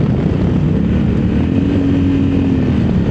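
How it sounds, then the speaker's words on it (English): A 2024 Honda Africa Twin Adventure Sport DCT motorcycle engine in manual mode drones loud and close as it downshifts, its pitch climbing midway and then easing back down, with no voices. "we'll downshift second and third"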